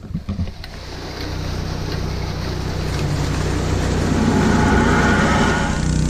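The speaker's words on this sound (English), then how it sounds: "Alright, I'm going to start this pump up." A pump starts up to move pond water on a farm: a few uneven thumps, then a steady, loud motor drone that builds slightly and holds to the end.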